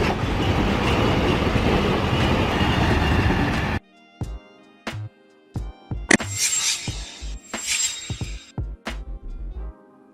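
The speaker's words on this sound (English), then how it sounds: "A freight train designed to carry shipping containers" A container freight train running on rails, first a loud continuous rumbling roar, then a sharp rhythmic clickety-clack of wheels over rail joints, with bursts of metallic squeal and rattling between the beats.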